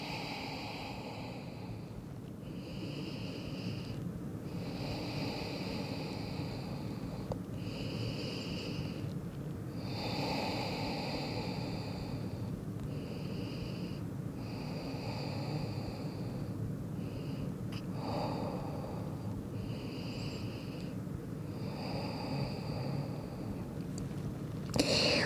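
Slow, deep yoga breathing during a floor stretch with the forehead on the mat, long regular inhales and exhales repeating about every two to three seconds, soft and close over a quiet room hum.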